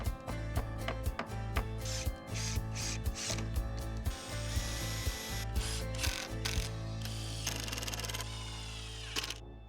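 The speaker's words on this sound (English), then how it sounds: "let's drill some pilot holes in the side and finish securing our shelf" A power drill bores pilot holes into the wooden side of a built-in bookshelf, with repeated close whirring bursts separated by short pauses and a loud steady hum underneath.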